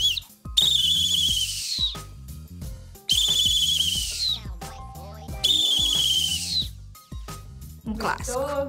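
A tune is played on two whistles, sounding in shrill, sustained phrases broken by short pauses, with lower tonal background sounds between them.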